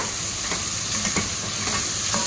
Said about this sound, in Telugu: ఇది కూడా బాగా కలుపుకోవాలి బాగా ఫ్రై చేసుకోవాలన్నమాట